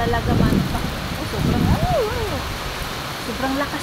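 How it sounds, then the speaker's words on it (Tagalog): Heavy rain pours steadily in Singapore, a dense, constant hiss, while a voice talks over it in the middle. "sobrang lakas talaga ng ulan, eh."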